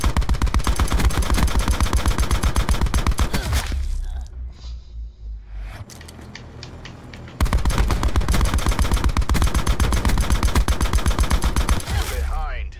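Sustained automatic gunfire in Black Ops, aimed at a target, crackles in fast, even bursts, breaks off for a few seconds of quieter rumble and scattered sounds, then resumes just as loud and rapid.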